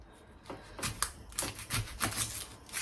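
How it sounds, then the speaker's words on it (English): A knife chops onion on a chopping board, about eight crisp, fairly close taps in an uneven rhythm. "I'll see what it's like when I cut it up."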